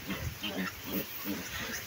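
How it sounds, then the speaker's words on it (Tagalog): Pigs grunting on a farm, a run of low rhythmic grunts and oinks repeating close by at moderate volume over steady background noise. "Ano mga baboy oh."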